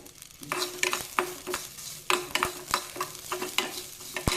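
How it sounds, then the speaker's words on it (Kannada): Onion, garlic and tamarind frying in a hot pan, a steady sizzle broken by repeated sharp scraping stirs, close and fairly loud with no voices. "ಇದನ್ನು ಹುರಿಯಕ್ಕೆ ಹಾಕ್ತೀನಿ."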